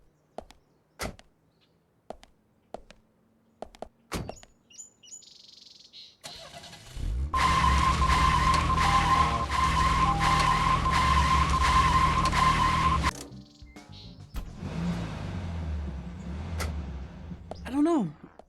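Car tires screech and skid in the video game GTFO: a sustained, loud squeal for several seconds amid engine noise, preceded by scattered clicks and followed by quieter rumbling.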